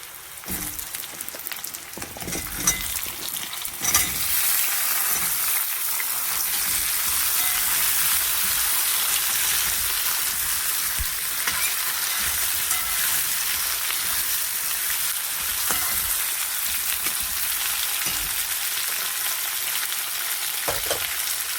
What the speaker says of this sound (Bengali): পেঁয়াজটা ভাজা হয়ে গেছে, একটা কচু আলু কেটে রেখেছি, এটা দিয়ে দিচ্ছি।